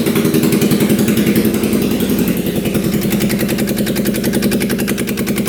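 Engine of a used UTV idling steadily just after restarting, a close, loud, even chugging pulse with no knocking, alone.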